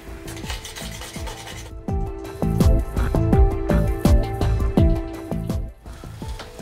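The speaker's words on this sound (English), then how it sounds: "this lovely, lovely sound as you scrape the blade across the tubing" A blade scraping repeatedly across the plastic tubing of an LED hoop, a series of raspy, rubbing strokes with squeaky tonal edges, close and fairly loud, no talking.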